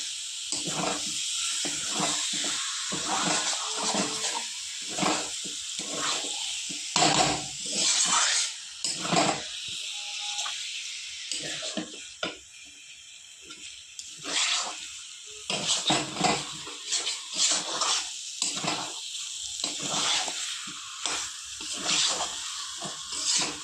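Chicken sizzles and hisses as it is stir-fried with spices in a pan for a light curry. Steady frying crackle is broken by louder bursts and occasional scrapes and clinks of a utensil in the pan.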